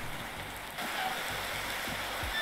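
Steady, soft rain hisses across the ground in the farming video game Farming Simulator 19 (Landwirtschafts-Simulator 19), a faint, even patter with no voices.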